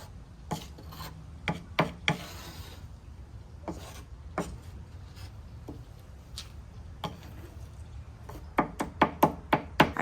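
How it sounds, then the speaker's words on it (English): Sandpaper rasping over the wooden drawer fronts of a dresser, with 120 and then 220 grit, in quiet scratchy strokes broken by sharp knocks. A quicker cluster of strokes comes near the end. "I came back and sanded the drawer fronts first with 120, followed by 220 grit."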